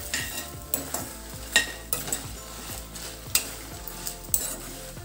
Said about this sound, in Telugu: ఇలా అన్నీ వేయించుకోవాలండి.